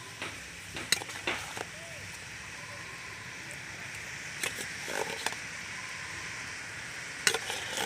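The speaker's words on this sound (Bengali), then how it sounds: "দিয়ে এবার ভালোভাবে নাড়তে থাকবো।" Boiled lentils are stirred into melted sugar in a pan, giving soft sticky scraping and a few sharp spoon knocks against the pan amid a faint sizzle, in short bursts with quiet gaps.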